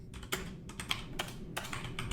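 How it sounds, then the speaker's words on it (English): Keystrokes patter on a computer keyboard while coding a vanilla JavaScript project, a steady run of close, quick clicks in irregular bursts with a few brief pauses, heard alone with no talking. "I always have to stop when I'm typing"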